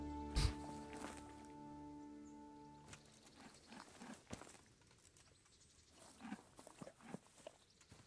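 Horse hooves in Kingdom Come: Deliverance, a faint clip-clop of several uneven steps with a sharp thump at the start, quiet and somewhat distant amid soft ambient game sound.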